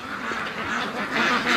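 A flock of domestic ducks circles a house in the mid-afternoon looking for food, their steady overlapping quacks and calls continuous and close, growing slightly louder toward the end.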